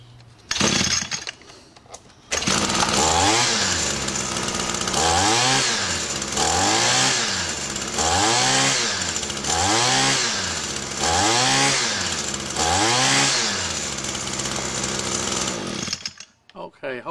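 An ECHO string trimmer's small two-stroke engine revs repeatedly from idle to fast, about six rising and falling whines in an even rhythm, loud and close, with no talk over it.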